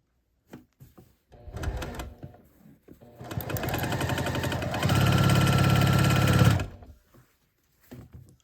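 A sewing machine runs in short bursts and then a longer steady run as quilt block pieces are stitched. Its rapid mechanical whir is close and clear, broken by brief pauses and small handling clicks.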